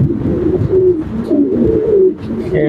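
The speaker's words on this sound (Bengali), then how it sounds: "দেশি কবুতর, মানে ফুস্টা করার জন্য আনছি।" Several local pigeons coo close by in a pigeon market in Uttarkhan, Dhaka, with overlapping throaty, rolling calls in a steady, loud stream and no talking.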